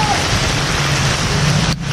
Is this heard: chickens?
no